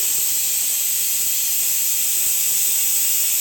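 Steady, loud sizzling hiss of tempering spices frying in hot oil, continuous and close, with no voices.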